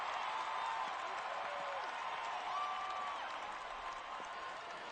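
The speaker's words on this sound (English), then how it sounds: "the crowd here is going wild as the Speeders are running out of outs to work with" A baseball stadium crowd cheering and applauding in a sustained, even roar late in a game, with a commentator talking over it.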